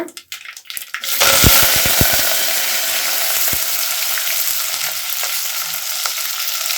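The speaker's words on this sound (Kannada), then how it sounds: "ಇಲ್ಲಿ ಮೂರು ಈರುಳ್ಳಿ ಹೆಚ್ಚಿಟ್ಕೊಂಡಿದ್ದೀನಿ ಮೀಡಿಯಂ ಸೈಜ್ದು ಅದನ್ನು ಹಾಕ್ಕೊಳ್ಳೋಣ" Chopped onions tipped into hot oil with mustard and cumin seeds for a brinjal curry, bursting into a loud, steady sizzle and crackle after a short quiet start, with a few sharp pops; no talking.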